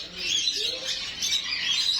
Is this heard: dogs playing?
no